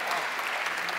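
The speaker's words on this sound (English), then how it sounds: "Can I get a round of applause for Raffle, please?" Audience applause fills a hall at MCM London Comic Con, a dense, steady wash of clapping from a large crowd, loud and continuous for about a second with no talk over it.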